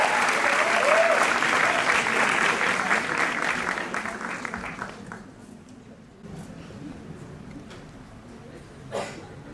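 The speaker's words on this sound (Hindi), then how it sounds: "तालियां बजाइए" An audience at a press conference in India for the Cadence music event, with a singer present, breaks into loud, dense applause that fades after about five seconds into quieter room noise and a few scattered sounds.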